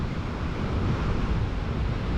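Stormy sea surf and extreme gale-force wind during Storm Ashley in Scotland roar together in a continuous, loud, buffeting wash, heavy wind noise hitting the microphone.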